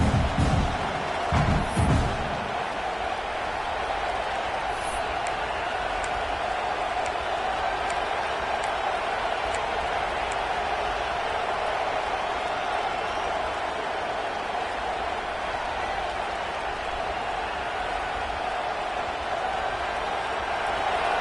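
Football stadium crowd roars during a fourth-down defensive stand, a loud sustained wash of cheering and noise with a few sharp bursts near the start, broad and distant-sounding throughout.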